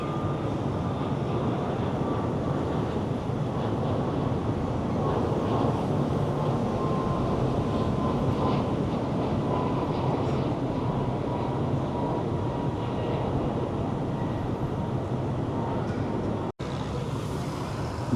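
A Batik Air jet takes off at KLIA2 airport in Malaysia, a steady broad roar of engine noise holding loud and continuous throughout, with a faint rising tone, and no talk.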